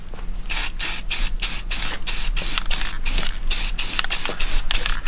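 A Rust-Oleum rattle can sprays paint onto SSR Type F wheels in rapid, evenly spaced hissing bursts, loud and close, continuing for several seconds without pause.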